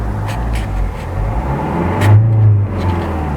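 A Hyundai Accent Era engine revs as the gas pedal is pressed, a steady loud drone that swells briefly in pitch and volume midway before settling, heard close from inside the car with no talk.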